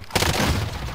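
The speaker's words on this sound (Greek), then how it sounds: "Flashbang going out." A flashbang grenade goes off in the Call of Duty Warzone video game, a single sudden loud bang that breaks in after a brief quiet and then rings and rumbles for the rest of the moment.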